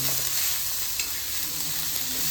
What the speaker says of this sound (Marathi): चांगल्या प्रकारे फ्राय करून घेऊ.